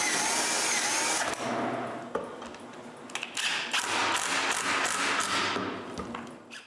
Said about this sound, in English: I drill pilot holes and screw the plate in place.